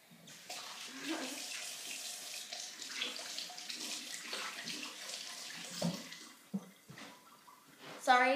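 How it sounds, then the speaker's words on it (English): Tap water runs and splashes while a small Littlest Pet Shop toy is rinsed off after being covered in ketchup, a steady close flow broken by splashes and handling noises, with a voice faintly present. "Now, time to rinse the LPS off in water."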